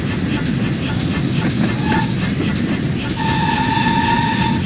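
GWR 57xx Pannier tank steam locomotive runs in a train simulator game, with a steady rumble and regular rail clicks, and a sustained whistle tone rising over the last seconds.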